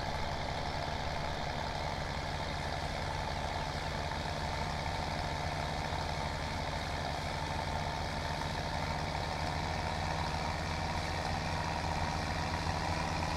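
Steady tractor engine hauling a fertilizer spreader in Farming Simulator 17, a continuous droning rumble with broadband hiss that holds an even level throughout with no pauses.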